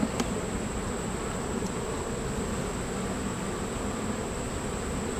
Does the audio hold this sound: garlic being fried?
no